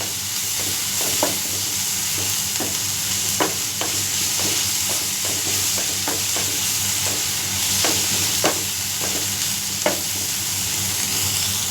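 Two teaspoons of ginger garlic paste fry with a kilogram of prawns in a pan, a steady close sizzle broken by repeated spoon scrapes and stirs at an uneven pace.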